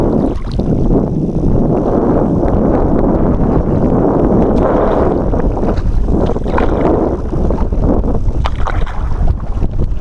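A canoe being paddled on a lake on a windy day: steady splashing and water wash under strong wind buffeting the microphone, with no talking.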